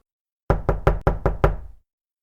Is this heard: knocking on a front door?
yes